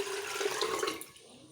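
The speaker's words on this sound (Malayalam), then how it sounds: "ഞാൻ വെള്ളം ആദ്യം ഒഴിച്ച് കാണിച്ചു തരാം ചോരുന്നുണ്ടോയെന്ന്" Water poured into a steel vessel with a small leaking hole, a short splashing gush that trails off quickly, close and fairly quiet.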